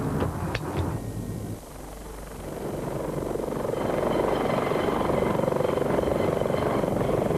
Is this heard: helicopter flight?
yes